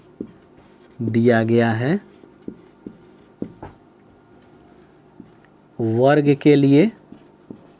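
Pen scratches and taps faintly on paper while a square mensuration problem is worked out by hand, the soft strokes falling between and beneath two spoken phrases.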